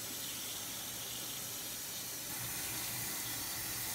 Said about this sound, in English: I just use plain tap water, room temperature.